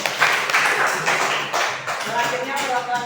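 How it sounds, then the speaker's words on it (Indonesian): An audience claps for group 1 after their presentation, a dense, steady patter of many hands that carries on for about three seconds at fairly close range. "Oke, beri tepuk tangan untuk kelompok 1."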